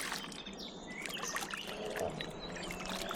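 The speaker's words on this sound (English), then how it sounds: "Got quite a bit of flow here and a little bit of chop on the kayak now" River current flows and small choppy waves slap against a kayak on a paddle trip toward Sluice Weir Lock, a soft, continuous burbling and trickling with light splashes and faint birdsong behind it.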